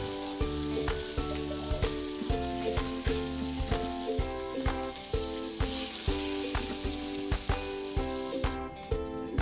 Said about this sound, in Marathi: कसे लाल झाले बोंबील आपले, आता परतून घेऊया.